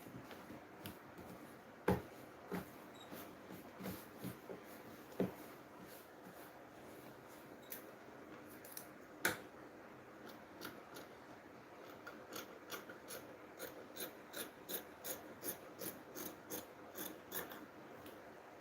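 Scissors snip away excess fabric at a sewing table, a quiet run of small crisp cuts and rubbing that quickens toward the end, close and faint with no talking.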